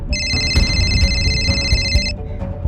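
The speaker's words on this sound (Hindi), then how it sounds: "सुमित का फोन है" A telephone rings in a tense crime-drama scene, a bright repeating electronic ringtone sounding continuously for about two seconds over low background noise before stopping.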